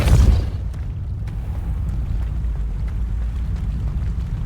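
Depulso force spell cast in Hogwarts Legacy, a sudden loud blast at the start that fades into a low rumbling, with a few faint ticks after.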